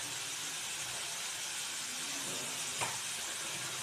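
Onions frying in a pan with salt and turmeric for onion poppy-seed curry give a steady, even sizzle and hiss throughout, with one brief clink or scrape near the end and no talk.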